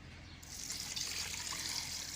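Water poured into a pot of beef for yakhni pulao, a soft continuous trickling stream close by, steady and fairly quiet throughout.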